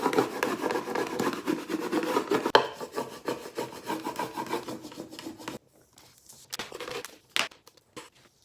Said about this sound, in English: Now I'm gonna just burnish it down onto the wood.